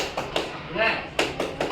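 Classroom group doing a clapping cheer, a few sharp claps in an uneven rhythm with a voice calling out between them, near and moderately loud.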